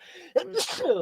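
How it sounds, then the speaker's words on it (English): A single sharp human sneeze: a quick inhaled lead-in, then an abrupt loud burst with a breathy tail, heard close up indoors during a podcast conversation. "bless you. Excuse me."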